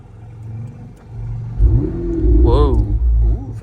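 Ferrari 488 Spider engine starting up and revving, a low rumble that swells into a loud roar with a quick rising rev flare, heard close while people talk nearby.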